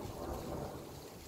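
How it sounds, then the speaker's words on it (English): Heavy rain pours during a thunderstorm, a dense continuous hiss with a low rumbling undertone, steady and loud. "it's still raining really badly"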